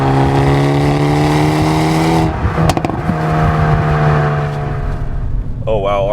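A 2026 Hyundai Elantra N TCR Edition race car on Cup 2 tires drives on a wet track in rain, its engine droning loudly inside the cabin with a brief shift and a voice cutting in near the end.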